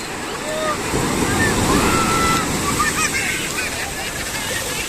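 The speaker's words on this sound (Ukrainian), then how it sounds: "Бачите, це приплив, хвилі дуже величезні." Large ocean waves break and surge onto the shore at Puerto de Santiago, Tenerife, at high tide, a steady loud wash of surf with wind noise on the microphone and a rising swell in the middle.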